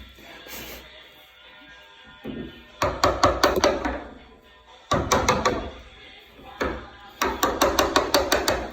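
A hammer driving a chisel to cut a mortise in a door, three bursts of rapid sharp strikes, about six to eight blows each, close and loud, with quiet pauses between.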